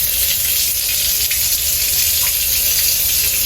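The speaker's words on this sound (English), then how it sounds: "this is a tour of the Disney Cruise Line Wish and Treasure showers." Shower water on a Disney Cruise Line ship, Wish or Treasure class, runs in a steady, loud, hissing spray close by, unbroken throughout with no voices.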